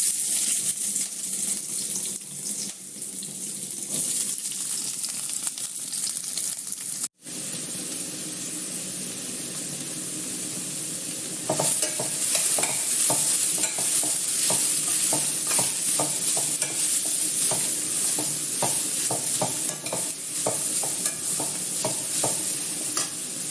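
Chopped onion, cabbage, carrot and green chilli sauté in a hot pan, a continuous close sizzle with stirring scrapes throughout, brightening and growing louder about halfway through.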